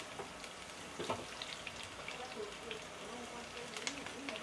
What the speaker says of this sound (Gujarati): મમ્મી પૌવા વઘારી રહી છે